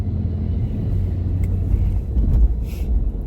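Car stuck in slow, heavy road traffic, with a steady low engine rumble and idling hum throughout, a slight surge near the end, and no voices.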